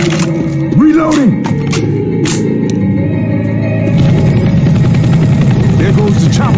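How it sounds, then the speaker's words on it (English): Helicopter passing overhead in the Left 4 Dead 2 Dark Carnival campaign, a loud steady rotor drone filling the scene amid game noise and chatter, with voices talking over it. "There goes the chopper."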